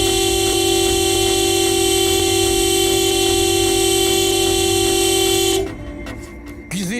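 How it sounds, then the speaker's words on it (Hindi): A car horn blares loud and close in one long unbroken honk on a road blocked by someone, holding steady for several seconds, cutting off near the end, and giving way to a few short clattering noises. "ऐसे हॉर्न क्यों बजा रहे हो?"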